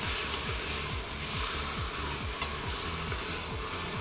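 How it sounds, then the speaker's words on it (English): Meat browning in a karahi pan, stirred steadily with a broad continuous sizzle of frying and a repeating scrape-like rhythm from stirring, close and alone without talk. "Make sure it's browned evenly on all sides because you want, the meat to sort of seal in all the flavors"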